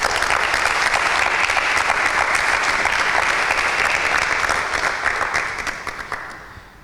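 Loud, dense applause from an audience at a Bible quiz contest, steady for several seconds before fading out toward the end.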